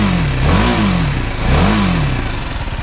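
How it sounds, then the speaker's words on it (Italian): A BMW G310GS single-cylinder motorcycle engine in neutral, idling with a steady thump and then blipped twice, each rev swelling and falling back, loud and close. "Adesso la metto anche in folle e vi faccio sentire il rumore del motore."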